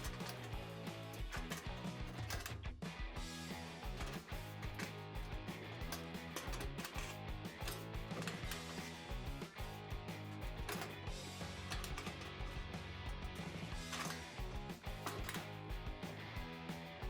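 Adjustable wrench tightens a nut on a clothes dryer wheel axle, producing dense, continuous metallic ratcheting and clicking with a faint grinding mechanical rhythm, close and fairly quiet.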